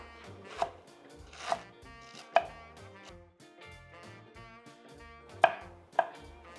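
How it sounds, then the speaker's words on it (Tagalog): A knife chops cabbage on a board, making a series of sharp, separate cuts at uneven intervals. The cuts sound close and crisp, with short ringing pauses between them. "we will also chop up some cabbage"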